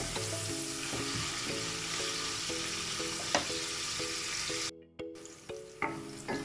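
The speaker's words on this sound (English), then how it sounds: "Our onions is now cooked." Onions frying in a pan for creamy chickpeas and jeera rice give a steady close sizzle, with a few louder crackles and stirring clinks and a short lull near the end.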